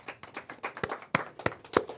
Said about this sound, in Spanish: Un aplauso para el Eterno entonces.